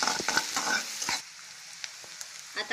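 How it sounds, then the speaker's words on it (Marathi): Browned onion fries in a pan as ginger-garlic paste is stirred in for Schezwan fried rice: loud crackling sizzle with scraping spoon strokes, then settling to a quieter hiss with occasional clicks and scrapes. "कांदा लाल झालेला आहे आणि त्यामध्ये अद्रक लसूणची पेस्ट टाकून घेऊ आणि मिक्स करून घेऊ"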